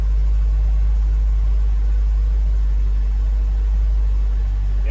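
A Ford Ranger engine idling just after a fuel pump swap, a steady low rumble held close and loud without breaks.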